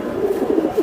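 A hammer pigeon coos nearby, a short, throaty, rolling coo lasting under a second.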